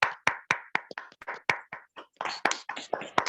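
A small audience at a skin care training session claps in sparse, distinct, fairly regular claps from a few pairs of hands to welcome a speaker, close and uneven in loudness.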